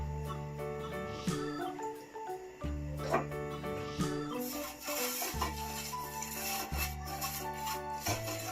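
Soft, steady rubbing strokes of a brush spreading oil over pizza dough in a tray, repeated close up over background music with tonal notes.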